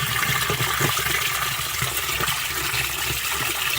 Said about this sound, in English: I got the hose running in there